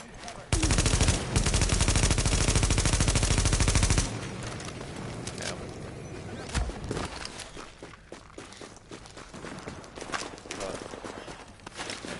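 A machine gun fires in The Division as one loud, rapid, continuous burst lasting a few seconds. Quieter game sounds and scattered thumps follow, with someone talking underneath.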